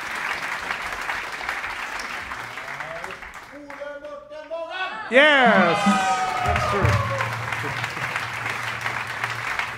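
An audience at a concert at the Bimhuis applauds, with a steady clapping wash that is briefly interrupted by a shouted voice. A louder burst of cheering, whoops and clapping follows and carries on to the end.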